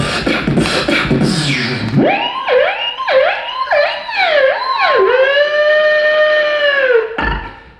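A human voice imitates a police siren aboard a Royal Caribbean cruise ship, sliding up and down in a rising wail before holding a long, loud steady tone, close to the listener.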